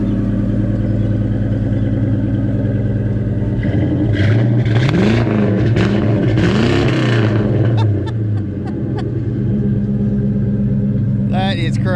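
A Ford Coyote V8 engine swapped into a Fox-body Mustang rumbles at idle, then revs up and down in several rising and falling bursts before settling back to a steady throaty idle, with voices over it.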